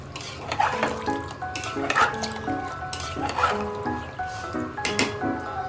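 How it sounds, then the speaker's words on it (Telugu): A spoon stirs a rice and water mixture in a pressure cooker for chicken pulao, with repeated scraping strokes against the metal pot about every second and a half, close and moderately loud. "దీన్ని బాగా కలుపుకొని"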